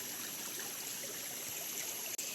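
A shallow stream trickles steadily during crab hunting on an estate in Gudalur, Nilgiris, giving a close, even wash of running water with no talk.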